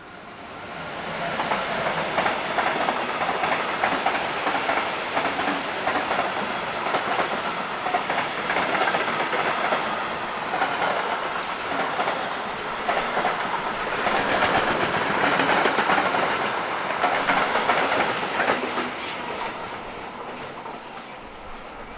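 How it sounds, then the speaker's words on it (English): A freight train hauled by electric locomotive 185293 rumbles steadily through Hannover-Linden station, its wagons producing a continuous loud roar with rhythmic clatter over rail joints for the whole stretch, no voices. "it is the turn of 185293 to work this train from Sielzer Yard to Peine"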